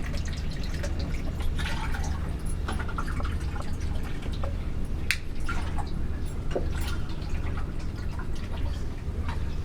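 Water poured into a cooking pot to be boiled, a steady continuous splashing and trickling stream with scattered drips, loud and close throughout, no talk.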